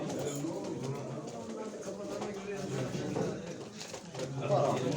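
Pigeons coo softly in a low, throaty murmur under a steady background of chatter and room noise at a pigeon auction in Bursa.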